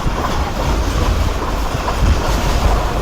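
The Islamabad Express passenger train rolls along loudly in Pakistan, a constant dense rumble and rattle with rhythmic wheel clatter heard from close up, with no voices.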